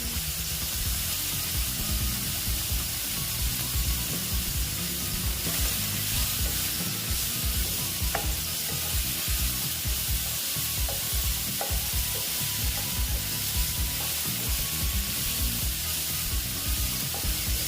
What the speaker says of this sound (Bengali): মোটামুটি আমার সয়াবিনটা ভাজা হয়ে গেছে